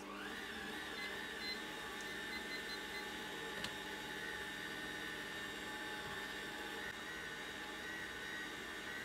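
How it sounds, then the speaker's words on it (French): A dough mixer kneads firm shortcrust pastry at first speed, giving a steady, fairly quiet mechanical whir with a tonal hum that holds evenly throughout. "je vais pétrir 4 minutes en première vitesse"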